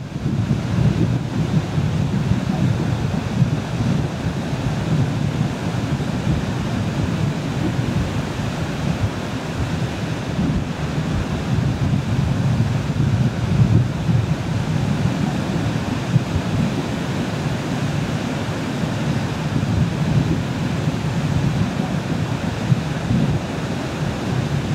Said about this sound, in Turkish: Die Wellen treffen sehr stark ans Ufer.